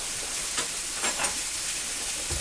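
Sirloin steaks sizzle loudly in a hot pan with thyme, a dense steady hiss and crackle with a few brief spatters, close and continuous with no talking.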